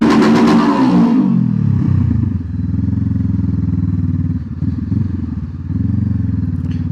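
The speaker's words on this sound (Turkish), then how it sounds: "Abi son susturucuyu söküyorsun ses bu." A loud Honda CBR500R motorcycle engine with its end muffler removed revs hard at first, then drops to a deep, throaty idle with a few brief blips of throttle.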